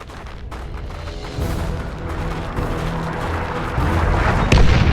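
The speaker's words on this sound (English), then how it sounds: "Launch barrage! Artillery!" Artillery barrage in Warhammer 40,000: Dawn of War II, a dense rumbling wash of distant booms and blasts that builds steadily louder, with no voices over it.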